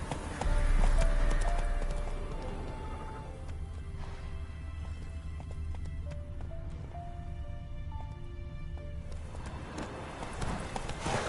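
Hooves of Roach, Geralt's horse in The Witcher 3, clip-clop in a steady galloping rhythm for about eleven seconds, loudest at the start and then holding even beneath game music.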